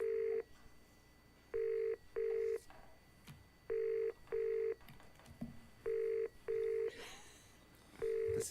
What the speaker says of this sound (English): I don't see any phone ringing. It sound like it's coming through the speakers, doesn't it?